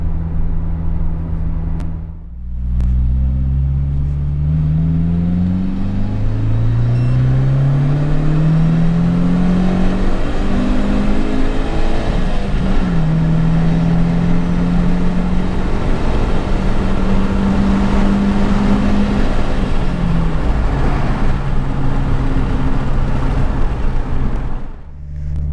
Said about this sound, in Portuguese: agora nós vamos fazer aquele teste de retomada novamente